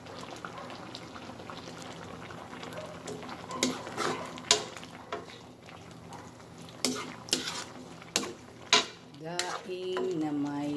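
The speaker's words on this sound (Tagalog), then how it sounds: "Lalagyan na natin ang kakang gata." Coconut cream is poured into a simmering pot of dried fish and moringa leaves, with stirring and clinking of a utensil against the pan over a steady low bubbling, louder knocks coming in bursts.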